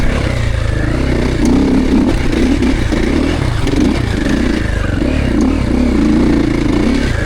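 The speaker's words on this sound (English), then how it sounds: "Traction control lets the bike hook up and pull forward" A 2026 Triumph TF450C motocross bike rides and accelerates on a track in a soft engine mapping, its engine droning loud and steady with rising and falling revs throughout.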